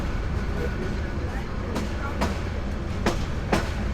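A passenger train in Bangladesh rolls along with a steady, loud rumbling roar from inside the carriage, punctuated by a few sharp clicks and clacks from the rails.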